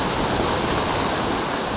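Rough, dangerous ocean surf under red-flag conditions on a Pensacola, Florida beach, a steady loud roar of breaking waves with wind buffeting the microphone, no talk over it.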